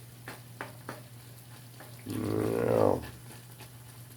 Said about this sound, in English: So we're boiling now. Boiling away. Time to stir it again.